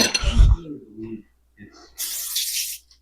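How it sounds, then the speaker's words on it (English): A short hissing burst of Pam coconut oil cooking spray, close by, following some quiet speech. "Could just spray the one side, but whatever. A nice, decent layer of the Pam coconut oil."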